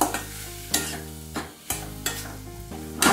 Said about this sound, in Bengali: দিয়ে আবার এটা একটু ভালো করে নাড়াচাড়া করে নিচ্ছি